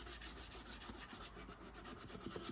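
Rough hand sanding of wood with sandpaper, a faint continuous scratchy rubbing with regular back-and-forth strokes, close and quiet.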